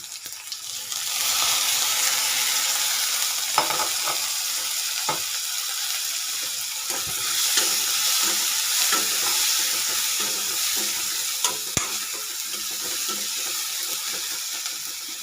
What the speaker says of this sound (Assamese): এনেদৰে লৰাব। ইয়াতে মাছকেইটাও দি দিম।